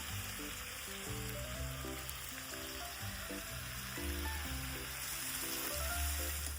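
Peas and pigeon pea beans frying in a pan for Gujarati undhiyu, a steady close sizzle with a low hum running underneath throughout.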